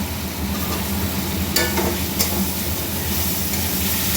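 Fried potatoes are stirred in an oily pan, a loud steady sizzle with a low hum underneath and a couple of brief scraping stir strokes, no voices.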